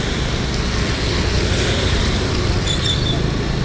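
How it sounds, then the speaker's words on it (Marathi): Floodwater rushing like a river across a road after heavy rain in Vasai Virar, a steady broadband roar of flowing water with wind buffeting the microphone, continuous and close throughout. "पाणी पूर्ण वाहत आहे नदीसारखं."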